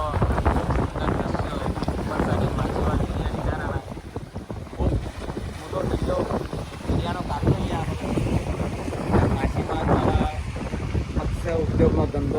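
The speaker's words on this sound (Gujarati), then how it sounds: "તમે મિત્રો જોઈ શકો છો કેટલી મોટી સ્ટીમર ચાલી રહી છે દરિયાના અંદર." A large steamer boat runs at sea near a fishing village coast, its steady engine and water rush filling the scene with loud, continuous wind buffeting the microphone and voices talking throughout.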